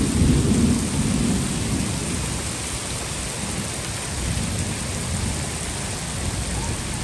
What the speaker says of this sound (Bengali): বৃষ্টির পরিবেশও কত সুন্দর।